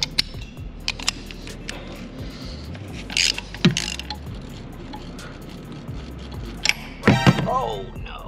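A socket wrench with an extension turning the oil filter cover bolt on a 2021 CSC TT250 motorcycle, giving close ratcheting clicks and mechanical clatter in short bursts.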